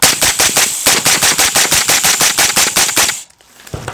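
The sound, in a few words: suppressed AR rifle rapid fire gunshots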